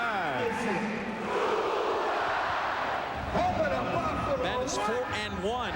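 Arena crowd at a 1996 Buffalo Bandits indoor lacrosse championship game yelling loudly and continuously, a dense roar that swells midway, with a play-by-play announcer talking over it.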